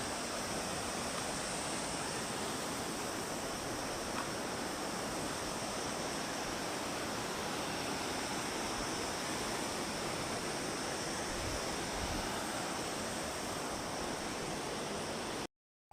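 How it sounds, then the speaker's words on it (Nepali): Dense, unbroken rushing of flowing river water, loud and steady for the whole stretch with no voices. "खोला।"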